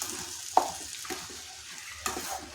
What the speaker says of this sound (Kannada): ಈ ರೀತಿಯಾಗಿ ಅವಲಕ್ಕಿಯನ್ನು ಹುಳಿಯಲ್ಲಿ ಹಾಕಿ ಚೆನ್ನಾಗಿ ಮಿಕ್ಸ್ ಮಾಡಬೇಕು.